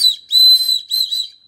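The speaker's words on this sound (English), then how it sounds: "I'm going to go ahead and check and make sure my whistle works" A rescue whistle on a paracord zipper pull is blown in three loud, shrill blasts: a short one, then two longer ones, with nothing else heard.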